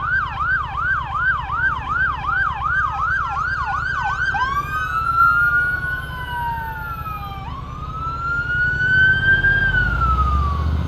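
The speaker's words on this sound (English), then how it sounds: "Let me make sure I don't pull out in front of this fire truck" A fire truck siren wails loudly up close, cycling in a rapid yelp before sliding into long rising and falling wails as it passes, with engine rumble underneath.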